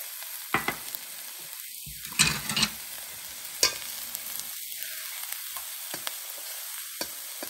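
Beaten egg poured into hot oil in a pan for restaurant-style fried rice, with a loud sizzling burst after a few seconds, then quieter frying crackle and occasional utensil taps, with no voices.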